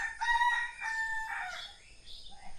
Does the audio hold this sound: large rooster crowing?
yes